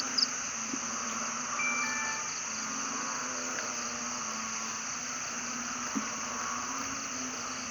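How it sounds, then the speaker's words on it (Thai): A continuous high chorus of crickets and other insects drones steadily over a low background hum, with no voices, on a rainy morning at a Buddhist site in Chae Hom, Thailand. "เสียงอึงเสียงจิ้งหรีดเสียงแมลงต่างๆ"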